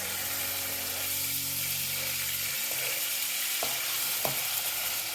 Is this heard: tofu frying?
yes